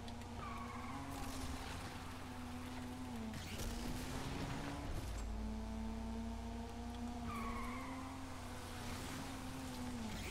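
A Mazda RX-8 drifting in the racing game Need for Speed Unbound, with a sustained engine drone and long tire squeals that rise and fall through the corners under game music.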